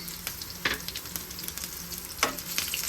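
Continuous crackling sizzle of green chilies frying in hot ghee after garlic, with occasional sharper pops and stirring clicks, close and moderately quiet.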